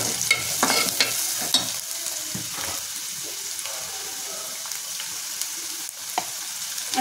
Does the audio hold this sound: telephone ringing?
no